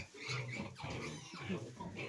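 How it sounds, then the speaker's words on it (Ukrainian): Piglets grunt and squeal in quick, overlapping bursts inside a shed, close by and fairly quiet, a busy jumble of small snorts and oinks. "Поросята, дивіться, які класні."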